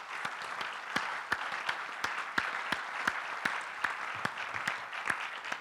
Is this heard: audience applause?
yes